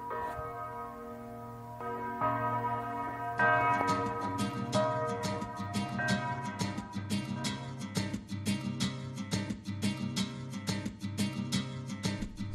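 A bell rings steadily at the Dachau concentration camp in Bavaria, its repeated metallic strikes overlapping into a rich, sustained toll, heard clearly and fairly close throughout, with no talking.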